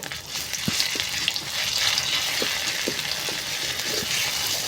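Chili and coriander frying in oil with browned onions in a pan: a quiet, steady sizzle with a few soft clicks and pops scattered throughout.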